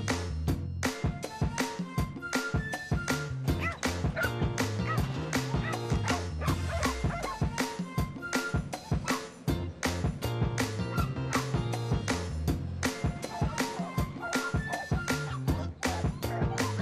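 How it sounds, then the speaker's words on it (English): Several dogs in a Texas yard bark repeatedly and densely, with yips and whimpers mixed in, loud and close throughout in a near-continuous barrage. "Now watch this short clip of Dog Lovers in Texas."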